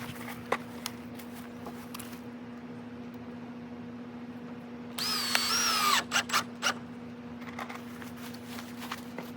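A power drill whirs in one short burst while drilling holes and driving screws into a deck board during deck framing, followed by a few sharp knocks, over a steady low hum.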